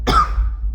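A man gives a single sharp, close cough, rough and throaty, that quickly trails off into quiet.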